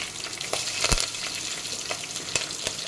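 Chopped green chillies hit hot oil alongside browned onions for a traditional gongura stew, a loud close crackling sizzle with spoon scrapes and taps.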